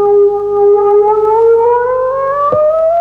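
Kaleidophon, a 1979 analogue electronic instrument played by pressing its strings, sounds a loud sustained tone with layered harmonics that glides slowly upward, with one brief click near the end.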